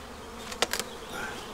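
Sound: honey bees buzzing in hive box

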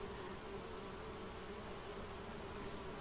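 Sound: bees buzzing at a beehive in Geheimakte 2 video game

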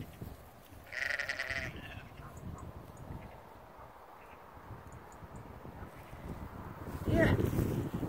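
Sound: sheep bleating on a farm

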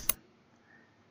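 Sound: mouse click

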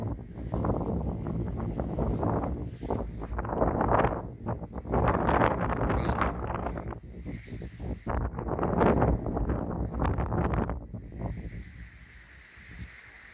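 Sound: wind and rain outside

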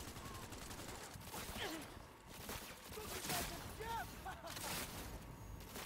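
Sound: gunfire in the video game Cyberpunk 2077

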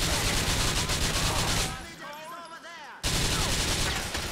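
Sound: gunfire in the video game GTA IV

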